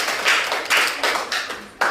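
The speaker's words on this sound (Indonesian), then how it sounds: "Kita berikan aplaus dulu" A classroom group claps after a student presentation on the optics of the eye, giving a short burst of close, loud applause with a few clear rhythmic peaks.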